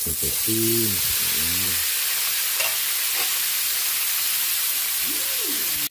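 Pork for a sinigang of pork ribs hits a hot pot with a loud, steady sizzle and hiss that runs unbroken throughout, with a few short tonal sounds near the start and end.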